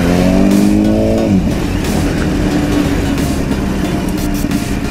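A Kawasaki motorcycle engine revs close and loud while riding, its pitch climbing and then dropping as the rider shifts, before settling into a steady drone under heavy wind rush.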